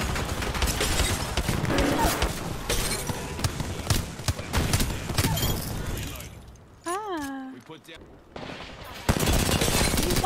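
Gunfire from the video game Apex Legends comes in dense, rapid bursts along with shattering impacts, and a player talks over the noisy action.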